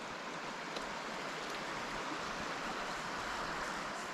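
Small woodland creek running steadily through the bush, a continuous broadband rush of flowing water heard close and unbroken, with no voices over it.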